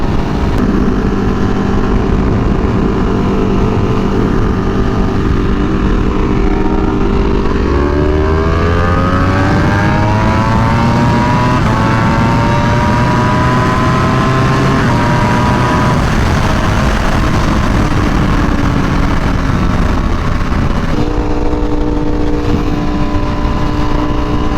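A V4R motorcycle engine runs loud and close, holding a steady drone before revving up and down in a smooth rising and falling sweep, then settling back to idle.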